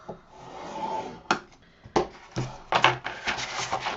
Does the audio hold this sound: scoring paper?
yes